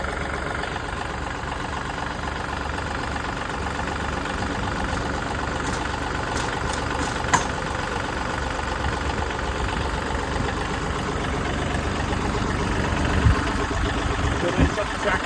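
A John Deere 2032R compact tractor engine idles with a steady, even rumble nearby, with a few small clanks over it.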